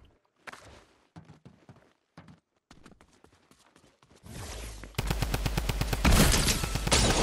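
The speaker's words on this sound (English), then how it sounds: "Oh, is that the minigun?" Minigun fire in the video game OG Gun Game: after a few seconds of soft, scattered clicks and thumps, a loud, rapid continuous burst of gunfire roars in and keeps going to the end.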